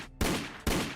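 Turrets fire in Factorio Space Age, giving two sharp, loud gunfire bursts about half a second apart, each with a brief ringing tail.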